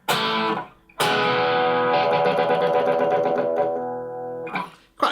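A Les Paul electric guitar rings out sustained chords while its pickup selector is rapidly flicked between pickups, giving a wobbling, psychedelic tonal shimmer that swells and fades between brief gaps.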